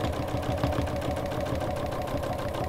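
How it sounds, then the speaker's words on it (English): A sewing machine quilting with a walking foot runs steadily and somewhat louder than usual, a fast continuous mechanical chatter with a rapid stitching rhythm, close and alone without talk. "It's a little bit noisier than normal because of the walking foot."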